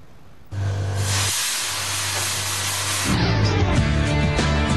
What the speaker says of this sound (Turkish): fuarın en ilginç ürünü ise hırsızlara karşı yapılmış olan buharlı alarm sistemi